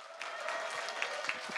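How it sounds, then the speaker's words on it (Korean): Applause from an audience in a conference hall at a Seoul political assembly, a soft, steady patter of clapping heard from a distance. "다시 한번 박수 부탁드립니다"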